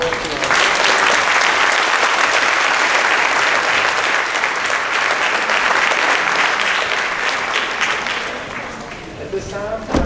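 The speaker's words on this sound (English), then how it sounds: "let's give a round of applause to our" A crowd at a high school academic awards assembly gives freshmen a loud, sustained round of applause, dense clapping that fills the room and tapers slightly near the end, with voices mixed in.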